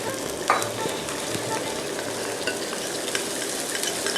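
Tricolour bell peppers being stir-fried with oyster sauce in a pan, giving a steady soft sizzle with occasional scraping stir sounds, continuous and close.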